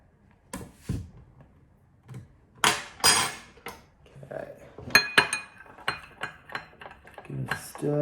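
A metal spoon stirs salt into water in a glass, producing a string of irregular clinks and taps against the glass with short pauses between bursts and some faint handling noise.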